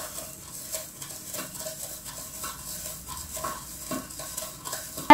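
Salt stirred into water until it dissolves, a soft continuous swirling and scraping with light repeated taps from the spoon, close up and fairly quiet, no speech.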